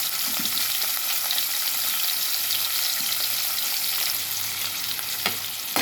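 Dried fish frying in hot oil in a kadai makes a constant, dense sizzle with fine crackles and occasional louder pops, heard close and uninterrupted.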